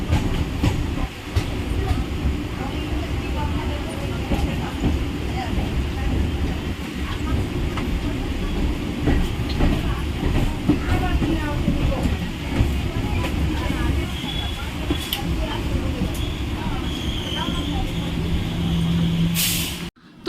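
Shantipur local commuter train running, a continuous rumble with rhythmic wheel clatter and a brief brake hiss near the end, heard from inside the carriage with faint voices around.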